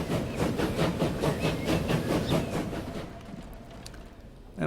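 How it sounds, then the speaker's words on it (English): A three-wagon train running in the Transport Fever video game, heard as a steady rhythmic clickety-clack of rolling wheels with a hissing rail rumble that fades gradually toward the end. "Got 3 wagons on our train now."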